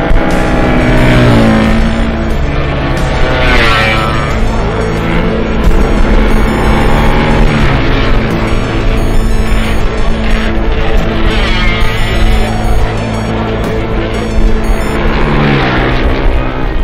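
A 1966 East German MZ RE 125 racing motorcycle runs on a road circuit, its engine note loud and continuous, rising and falling as it is pushed hard through the lap.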